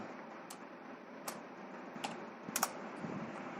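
C program code is typed on a computer keyboard. A few sparse, crisp key clicks sound up close over a faint steady hiss, bunching slightly toward the end.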